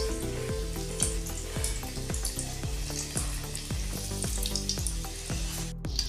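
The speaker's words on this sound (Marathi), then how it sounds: "आपले तेल तापलेले, मी भाकरवड्या सोडते त्याच्यामध्ये।" Bhakarwadi spirals frying in hot oil, giving off a steady, dense sizzle that stays loud and continuous the whole time, with no talking.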